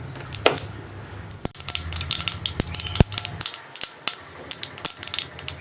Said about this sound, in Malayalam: നമ്മുടെ വെളിച്ചെണ്ണയിലേക്ക് ഞാനിപ്പോൾ 1 ടീസ്പൂൺ കടുക് ചേർത്തിട്ടുണ്ട്